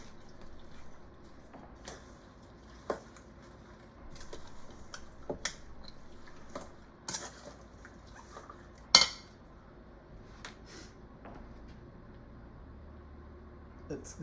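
Quiet, sparse clinks and taps of a utensil against a bowl as pickled cucumber ingredients are mixed, with soft wet stirring between the sharper knocks.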